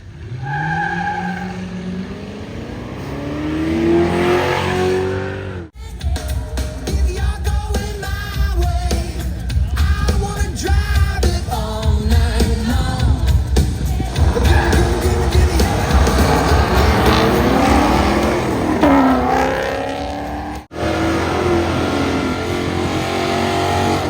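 A 2006 Mercedes CLK 350 races at Bonneville drag strip: the engine revs loudly, tires squeal, then the car accelerates hard and pulls away, a steady roar that later fades as another pass follows.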